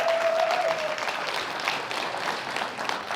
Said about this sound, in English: So can we clap it up one more time for Mr. Parrish, please?